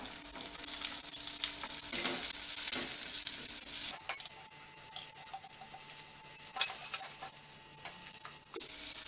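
Sun-dried vadagam and onion sizzle and crackle steadily in oil in a pan while being stirred for chutney, with occasional scraping and clinks of a utensil, close and fairly quiet.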